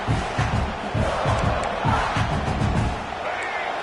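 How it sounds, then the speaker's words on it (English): A football stadium crowd roars continuously as a broad, loud wash of noise, with a commentator's voice running over it throughout. "The roar of the crowd trying to fuel this defense to keep them pinned in their own end."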